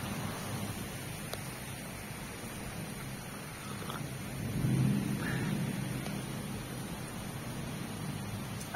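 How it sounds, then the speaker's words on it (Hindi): Steady rain hisses evenly throughout, a dense broadband wash with a slight swell midway; no voices. "काफी अच्छी बारिश हो रही है।"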